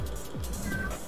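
A house cat meows a few times, faint and close, with its short falling cries set against a quiet room hum.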